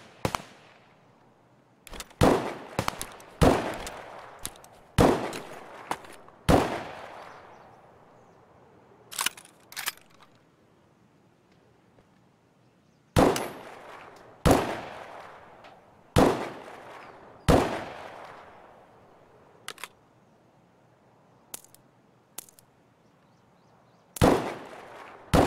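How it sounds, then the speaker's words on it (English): Sharp gunshots in Escape From Tarkov crack out in irregular single shots and quick clusters, each trailing a short echo, scattered across quiet stretches. "Shut this shooting up."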